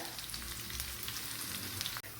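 Chopped onions sizzle in hot coconut oil with mustard seeds already popped, part of a soybean varuval preparation; a steady, dense frying hiss fills the whole stretch, close up and unbroken, with no voices.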